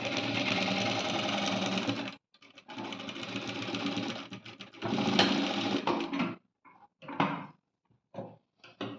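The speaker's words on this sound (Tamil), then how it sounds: "இதை வந்து மறுபடியும் சேஃப்டி அண்ட் செக்யூர் பண்ணுறதுக்கு மறுபடியும் ஒரு தையல் அது மேலேயே போட்டுருக்கோம்" A sewing machine stitches a seam on a princess-cut dress with a boat neck, whirring loudly in several long runs, then in short stop-start bursts with quiet gaps between.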